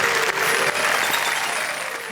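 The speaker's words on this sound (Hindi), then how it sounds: "जोरदार तालियां।" An audience at a Hindi poetry show claps loudly and steadily, a dense burst of applause with no voices over it.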